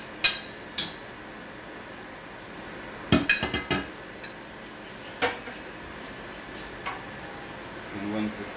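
A spoon stirs Cuban black beans in a pot, with sharp metallic clinks and taps against the rim in scattered bursts, a quick cluster in the middle, under a soft background.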